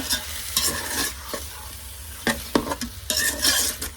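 Green chili and bacon sear in a pan on high heat, a constant loud sizzle broken by several sharp stirring scrapes and clatters, close up and with no voices.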